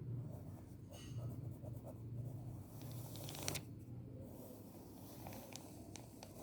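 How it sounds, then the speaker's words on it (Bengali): A pen scratches across paper in short strokes while a rough diagram is sketched, a faint, close scribbling over low room hum, with brief pauses and one sharper tap in the middle. "তো আমি আবার একটা রাফ এরকম"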